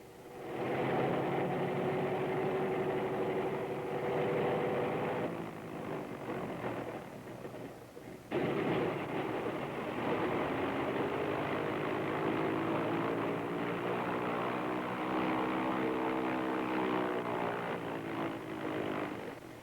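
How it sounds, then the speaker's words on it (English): Loud, steady droning of American Airlines propeller airliner engines running up one after the other, pitch rising and shifting with a brief dip midway before the roar resumes at full strength. "The captain checks his motors, first one, then the other."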